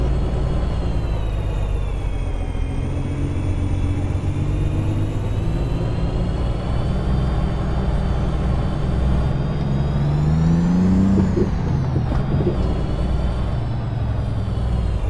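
An 18-speed truck engine in American Truck Simulator idles and revs in a steady mid-pitched drone, loud and continuous, with a brief hiss near the end and no talk.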